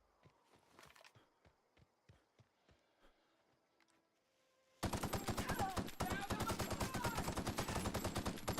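Gunfire in a video game: scattered quiet shots or footsteps at first, then an abrupt loud stretch of rapid automatic machine-gun fire that continues to the end.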